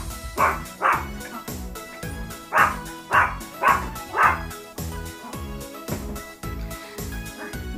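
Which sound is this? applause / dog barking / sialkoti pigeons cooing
dog barking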